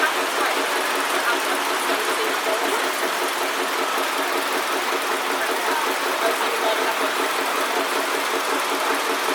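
A Massey 550 tractor engine runs steadily at a vintage machinery show, a constant mid-pitched drone with a faint knocking pulse, close and loud throughout.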